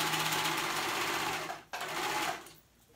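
A sewing machine stitches pajama fabric in a steady, close run that breaks off briefly near the middle, resumes, then pauses again toward the end.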